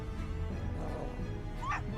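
A dog in the Professor Layton vs Ace Attorney video game gives a short growl and whimpering yip against steady game background music, brief and moderately quiet.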